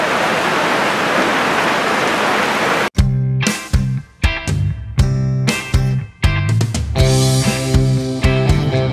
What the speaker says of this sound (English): So raining so hard.